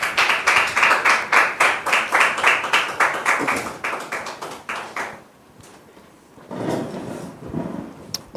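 A studio audience on a TV set claps in a brisk, rhythmic burst for about five seconds as guests come on. The clapping then thins to a few scattered claps and a short murmur of voices.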